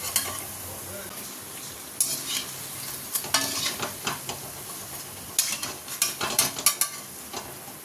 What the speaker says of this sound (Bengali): হাফ ফ্রাই করে রাখছি